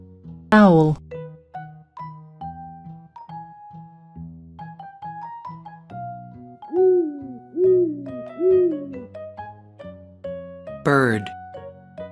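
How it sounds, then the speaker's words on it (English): An owl in a children's animal cartoon lets out a run of three or four soft, rounded hoots in steady rhythm, set against gentle chiming music, with a brief child-like voice before and after. "Owl."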